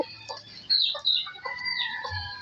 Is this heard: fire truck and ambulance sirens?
no